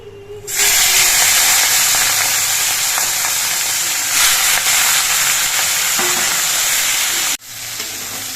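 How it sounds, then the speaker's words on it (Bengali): Prawns frying in hot mustard oil in a wok, a loud, steady, close hiss of sizzling that starts abruptly and holds for several seconds before cutting off sharply near the end. "সর্ষের তেলটা বেশ ভালো মতো গরম হয়ে গেছে এবার চিংড়ি মাছগুলো ভেজে নিচ্ছি"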